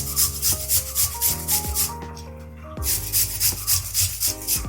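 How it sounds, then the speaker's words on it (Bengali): An onion is grated by hand on a grater, giving a quick rhythmic series of rasping strokes, close and fairly loud, with a short pause partway before the scraping resumes. "পেঁয়াজটা আমি এই কুড়ুনি দিয়ে কুড়ে নিচ্ছি।"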